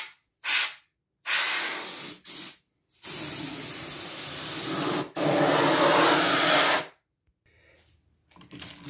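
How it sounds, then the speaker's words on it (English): Compressed air blows dust off a walking treadmill in several close, loud hissing bursts of varying length, from short puffs to sustained blasts, with brief silent gaps between them. "I'm gonna use some air, pressurized air, to get any of this dust away."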